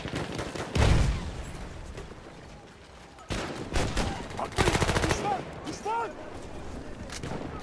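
Rapid submachine gun bursts in the first-person shooter Battlefield 1, with a loud early burst and a denser rattling volley later, mixed with other game sounds and someone talking over the action.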